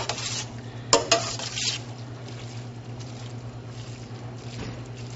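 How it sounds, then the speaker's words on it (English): Shrimp scampi stirred in a pan, a few sharp utensil clinks and scrapes near the start, then a low steady simmering hiss over a faint kitchen hum. "We'll just mix that all together."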